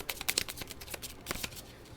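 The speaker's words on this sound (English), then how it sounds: "So we're going to shuffle these up here." Game cards for a solo zombie board game campaign are shuffled by hand on a table, a quiet series of quick riffling and slapping bursts in uneven clusters, with no talking.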